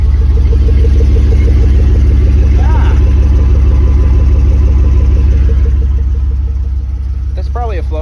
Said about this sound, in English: You can tell by the sound that it either has no muffler or like a Flowmaster or something.